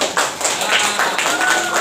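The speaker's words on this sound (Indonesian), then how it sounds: "Iya, tepuk tangan." Students in a classroom break into a short burst of applause, a dense patter of hand claps that is steady and close, with voices mixed in.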